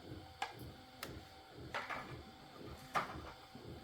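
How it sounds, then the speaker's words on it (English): A 3D printer at work on a can holder: soft, repeating whirring tones of stepper motors rising and falling, with a few sharp clicks and knocks of the moving head scattered through. "right now what I'm doing is I'm printing out a can holder for a friend of mine"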